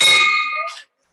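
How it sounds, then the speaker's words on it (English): A single bell rings at a Rotary Club of Oakland meeting in a ballroom, one bright clang that rings briefly and fades out within a second. "we also have online bell ringer, Linda Bosnicker for Lori Sinclair."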